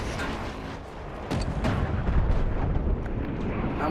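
Booming blasts and rumbling detonations from Battlefield 1 erupt in a dense, continuous barrage, loud and overlapping.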